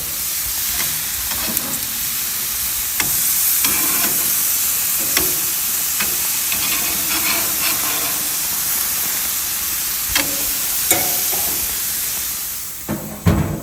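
A flipped steak sizzles steadily on a hot grill, a continuous hissing fry punctuated by brief crackles and pops, close and fairly loud, with no talking over it.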